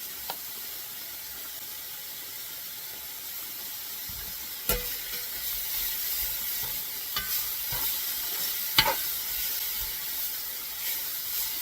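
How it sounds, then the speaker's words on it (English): Elk and pinto beans are stirred in a frying pan, a soft steady sizzle broken by a few sharp scrapes and clinks of the spoon against the pan, close and otherwise even. "I'm going to keep on mixing this up well"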